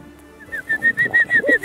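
Wood pigeons cooing in the Los Pedroches countryside during a pigeon hunt with decoys, a rhythmic series of soft, hollow coos repeating steadily at moderate distance with no voices.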